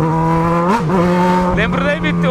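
A Yamaha XJ6 motorcycle with a broken exhaust pipe revs loudly up and down nearby, its hollow, rattly note swelling and dropping in two quick surges.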